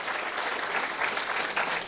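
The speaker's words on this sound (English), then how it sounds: "we give her a round of applause" An audience gives a brief round of applause at a civic event in Chicago, a dense, even patter of many hands clapping at moderate distance with no speech over it.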